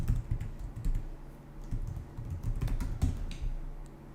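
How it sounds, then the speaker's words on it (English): Steady typing on a computer keyboard, a dense run of close, quick key clicks with uneven rhythm, heard alone without any voice. "you don't want to watch me typing all of these in"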